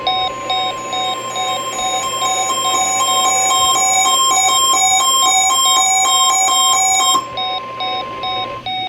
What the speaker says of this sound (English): This is a test of the NOAA radio warning alarm device for WWH-33.